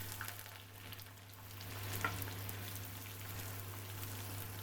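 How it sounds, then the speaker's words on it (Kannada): Chopped onions go into already-hot oil for gobi manchurian and sizzle in a steady, close, crackling hiss that holds throughout, with a low electrical hum beneath and no talk. "ಇದು ಆಲ್ರೆಡಿ ಆಯಿಲ್ ಬಿಸಿಯಾಗಿಯೇ ಇದೆ, ಅದಕ್ಕೆ ನಾನಿಲ್ಲಿ ಕಟ್ ಮಾಡಿಟ್ಟ ಈರುಳ್ಳಿ ಆ್ಯಡ್ ಮಾಡ್ತಾ ಇದ್ದೀನಿ."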